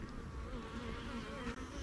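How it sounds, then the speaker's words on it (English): Honeybees of Carniolan cross stock buzzing steadily at close range, a dense continuous hum with no voices over it. "I have all races of bees"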